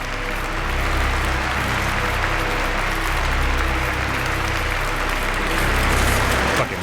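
Sustained clapping from a group, dense and steady, continuing at an even level throughout.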